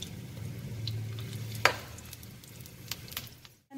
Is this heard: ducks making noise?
no